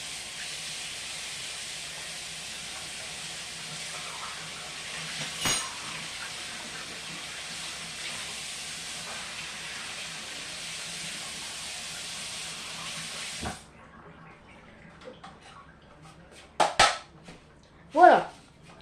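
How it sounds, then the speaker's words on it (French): Water runs from a kitchen tap as two bowls are rinsed while making an apple cake: a steady broad hiss for about thirteen seconds, then it stops, followed by a few sharp clinks and knocks of the bowls. "On va les nettoyer avec un robinet."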